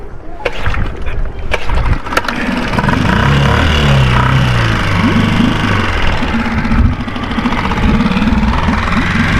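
A sailboat's small inboard engine runs rough, with uneven, knocking chugs and a sputtering idle, loud and close with water noise around it, no talking.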